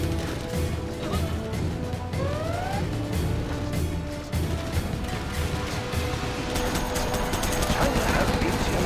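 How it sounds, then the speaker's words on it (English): Minigun fire in the real-time strategy game Command & Conquer Generals Zero Hour: rapid sustained bursts mixed into dense battle noise, with crashes and a rising whine partway through. "Our miniguns will destroy the enemy."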